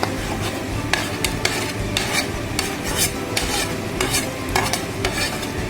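Potatoes are stirred in a hot frying pan, making a close, constant sizzle with repeated scraping stirs and light clinks of the utensil against the pan, with no voices.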